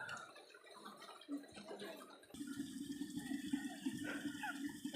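Water gushes from a tap midway through, a steady rushing stream that starts suddenly after quieter outdoor sounds and continues strongly.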